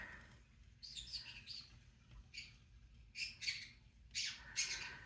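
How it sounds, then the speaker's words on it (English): A pet bird chirps and squawks in short, bright bursts, close by and fairly loud, with pauses between calls. "Talking to the other bird."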